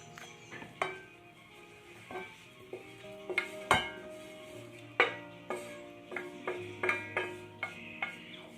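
Surimi and shrimp with garlic being stirred in a salad bowl, heard as a series of sharp utensil clinks and scrapes against the bowl at an uneven pace, close and fairly quiet.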